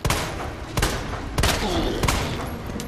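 Gunfire in Resident Evil 2 Remake aimed at a boss's eyeball, several loud booming shots at irregular intervals over a dense, rumbling game soundscape.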